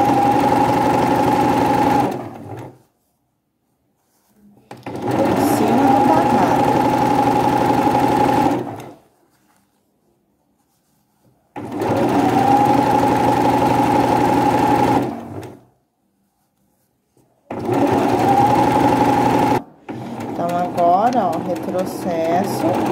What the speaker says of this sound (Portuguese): vou costurar esse acabamento